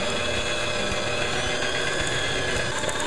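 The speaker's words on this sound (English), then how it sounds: "Room temperature butter. Whisk for 5 minutes." An electric mixer whisks room-temperature butter for frosting, a steady loud motor whine with a rattling, churning texture running throughout without pause.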